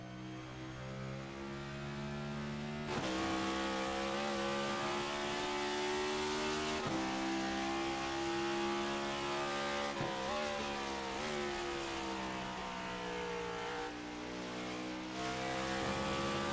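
Race cars at Watkins Glen in the iRacing video game hold a loud, continuous engine drone, revving up and down in pitch as they shift and pass in a steady pack.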